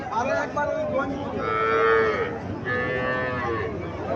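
A local cow at a cattle market in Chandimura, Comilla, gives two drawn-out, loud moos close by, with a short pause between them, over a low background hum of the market.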